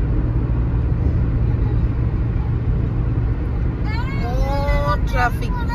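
Steady, dense road traffic rumbles in Sohar, Oman, a continuous low drone of car engines from nearby vehicles with no break, and a faint whistle-like tone rises briefly near the end.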